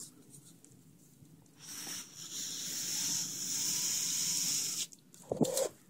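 Aquarium water from a 90-gallon planted tank siphoning through a garden hose out to the yard, a soft steady hiss of flowing water for a few seconds after a quiet start, ending with brief clunks.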